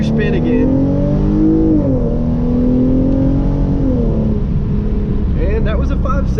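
A Hyundai Genesis Coupe 3.8 launches hard from first gear with major wheelspin, its engine revving high and sweeping up close and loud, with someone talking over the roar.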